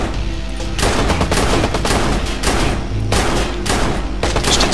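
Gunfire in the video game Watch Dogs, loud bursts of rapid automatic shots in a few dense volleys with short gaps, close and harsh, with no talk over it.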